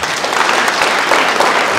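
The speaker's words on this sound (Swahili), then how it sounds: "Tupigie Bwana wetu makofi." A church congregation applauding, a dense, loud burst of many hands clapping that continues evenly throughout.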